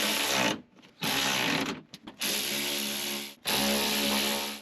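A power tool whirs in loud, steady bursts, three long runs separated by short pauses, while tightening nuts and a motor bolt on the rear window motor of a 2007-2013 Chevy Silverado 2500.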